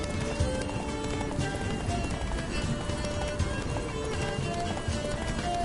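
A ridden horse gallops in The Witcher 3, hooves pounding in a fast, steady clip-clop rhythm, loud and close, over game background sound.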